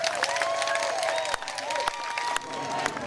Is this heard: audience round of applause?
yes